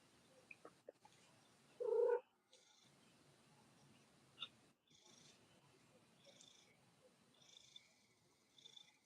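A cat meows once, a short sharp cry close by, with a few faint chirps and soft rustling; otherwise quiet.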